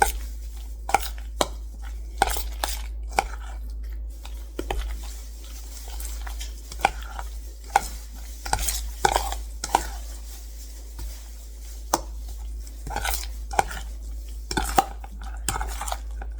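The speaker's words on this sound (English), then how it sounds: "And then you just want to mix it all up one more time." Guacamole with black pepper is mixed in a bowl, producing irregular close clicks and wet taps of a utensil against the bowl over a steady low hum, with uneven pauses between strokes.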